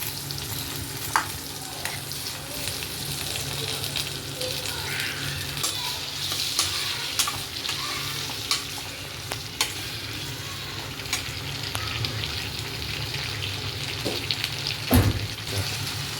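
Three medium onions with star anise, cinnamon and cloves sauté in a pan for a hotel-style paneer butter masala, a steady close sizzle with repeated stirring scrapes and no talk.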